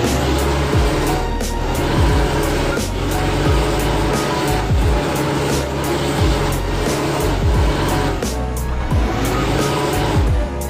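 Bus engine from a Mercedes-Benz OH1626 racing sound mod in Bus Simulator Indonesia runs loud and steady, a deep throbbing drone with a regular pulsing rhythm throughout.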